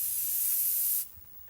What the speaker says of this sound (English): Then she squirted some strange-smelling spray around.